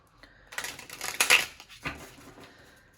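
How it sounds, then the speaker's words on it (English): Tarot cards being shuffled and drawn during a reading, a quiet papery riffle and a few soft flicks and slaps of card stock, brief and close with no talking. "So I'm going to draw some cards first to get an understanding of what your situation is"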